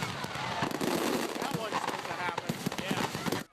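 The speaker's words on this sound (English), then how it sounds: "Fireworks exploding horizontally, low to the ground, not into the air." Low fireworks blasting horizontally into a crowd at a Fourth of July show, a dense run of crackling pops and bangs close by with continuous crowd noise and voices underneath.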